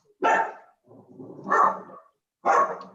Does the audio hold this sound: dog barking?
yes